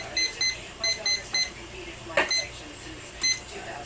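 Digital kitchen timer chirping in short, sharp beeps as its buttons are pressed to set it, a quick irregular series of bright electronic tones, close by against a quiet room while homemade pepper jack cheese ripens.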